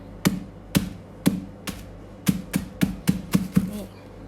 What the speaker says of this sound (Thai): ก็ทุบลูกไหนไม่ละเอียดแล้วก็ทุบเพิ่มอีก